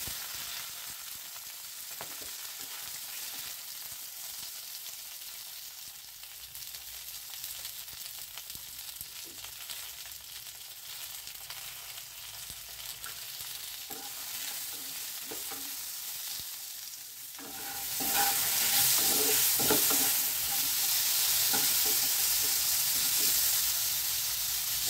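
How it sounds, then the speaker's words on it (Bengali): Whole flat beans hit hot oil tempered with black cumin seed and sizzle in a pan, a steady frying hiss that jumps sharply louder and brighter near the end as stirring continues. "এবার এতে আমি এই শিমগুলো পুরো দিয়ে দিচ্ছি।"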